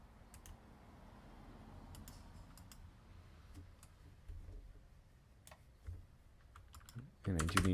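Computer keyboard keys, including the Shift key, clicked while working in Rhino 3D modeling software: quiet scattered taps and clicks at irregular intervals, ending in a louder burst of clatter.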